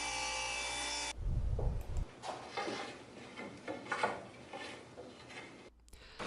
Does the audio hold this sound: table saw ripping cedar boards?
yes